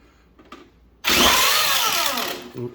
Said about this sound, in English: that's a good way to sand down the side of your body.